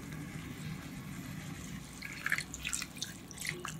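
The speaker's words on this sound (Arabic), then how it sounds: "وهنزل بحاجة بسيطة خالص مية، يعني ربع كوباية تقريبا" Water from roughly a quarter cup is poured into a pan of chicken biryani, heard as faint, close dribbling and dripping that grows more distinct in the second half.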